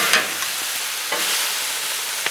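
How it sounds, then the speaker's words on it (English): Bacon frying on a Blackstone griddle gives a steady broadband sizzle, with a few brief scraping clicks from stirring scattered over it, close and moderately loud, with no voices. "Come over here and stir this bacon up."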